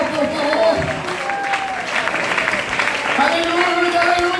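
A church congregation applauds during a Spanish-language service, steady clapping and crowd noise running the whole time beneath a preacher's amplified voice.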